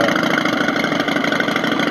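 Simulated engine-start sound from a wooden children's bike, a steady mid-pitched engine-like hum running continuously and fairly loud, with no talking.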